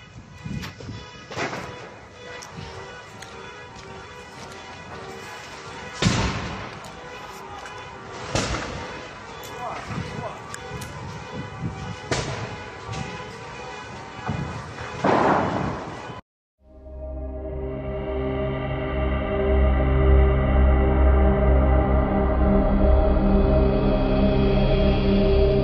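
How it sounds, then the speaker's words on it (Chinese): Fire at a BYD car dealership, with sharp bangs and crashing blasts scattered through a roaring blaze, followed by a steady, loud, rising rumble of flames. "好危险啊，爆炸声啊"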